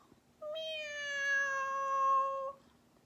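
A single clear, drawn-out cat meow, about two seconds long, close and distinct against a quiet background.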